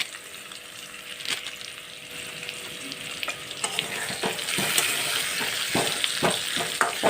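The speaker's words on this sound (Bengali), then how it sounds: "এই যে আলুটা বেশ ভাজা ভাজা হয়ে এসছে" Potatoes frying in oil in a pan with Kashmiri chilli powder, a steady close sizzle with intermittent crackles and stirring clicks that grows slightly louder midway.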